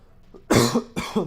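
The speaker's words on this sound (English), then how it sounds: "This cough not going away." Two harsh, close coughs in quick succession, each a rough burst with a throaty tail, preceded by a faint breath.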